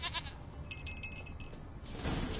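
A goat in The Witcher 3 gives a short, quiet bleat against low ambient noise, a single brief call lasting under a second.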